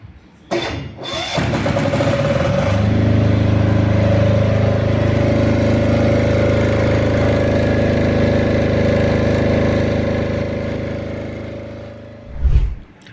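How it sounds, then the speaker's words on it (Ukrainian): A generator is pulled to start with a brief rattle, then settles into a steady, loud, droning engine hum that runs for several seconds before cutting off with a final clunk. "Зараз е, продемонструємо запуск, як він працює."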